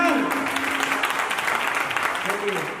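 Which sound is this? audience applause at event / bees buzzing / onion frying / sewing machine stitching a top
audience applause at event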